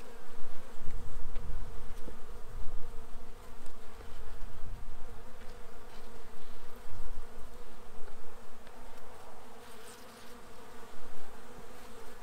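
Honeybees buzz steadily around a hive frame during a weak-colony rescue, a dense, continuous drone close by with no voices over it.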